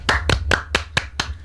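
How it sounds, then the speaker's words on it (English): Six sharp hand claps in an even, brisk rhythm on a radio show, close and distinct against a low background hum, with no talking. "and clapping for Chelsea"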